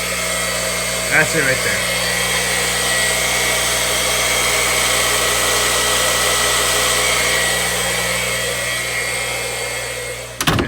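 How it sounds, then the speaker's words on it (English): An aquarium water change pump for a 220-gallon discus tank, plumbed through a closet, drones with a steady loud mechanical hum throughout, someone speaking briefly over it. "I'll show you the pump in case you haven't seen it already."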